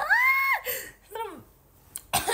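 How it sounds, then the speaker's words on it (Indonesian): A cough from a livestreaming young woman, a short harsh burst near the mic between vocal sounds, with a brief exclamation and another loud burst at the end. "Aduh, kan jadi batuk kan."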